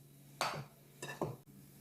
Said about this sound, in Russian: В творог добавляем сахарную пудру и хорошенько перемешиваем